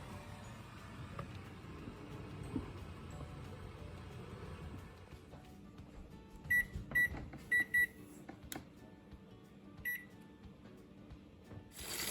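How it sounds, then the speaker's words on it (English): After a stretch of low room and road noise, a kitchen timer set for boiling eggs gives a few quick high beeps in a cluster, then one more beep a moment later. "the timer just went off, so I'll cut my oven off"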